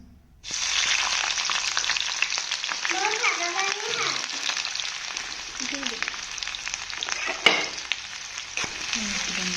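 Chopped onions sizzle loudly in a little oil in a pan, a dense, constant frying hiss close up that starts abruptly and continues throughout, with a few stirring knocks and a voice faintly in the background.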